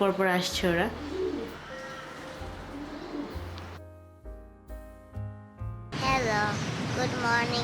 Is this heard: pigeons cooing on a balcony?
yes